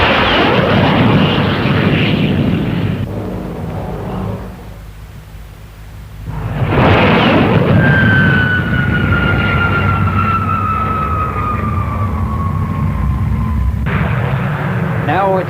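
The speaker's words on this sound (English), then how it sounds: "This is the Navy's low-level strike aircraft. It goes in at treetop height below the enemy's radar cover." A Navy NA-39 low-level strike jet flies past at the Farnborough air show around 1959 to 1961, a loud jet roar that fades briefly, then surges again with a sustained high engine whine as it passes.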